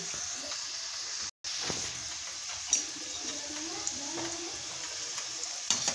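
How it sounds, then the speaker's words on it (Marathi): Pieces of elephant foot yam sizzle and crackle in hot oil, a soft steady frying hiss with occasional sharper pops and a brief clatter. "हे सुरसकंदाच्या फोडी तळल्या जातात"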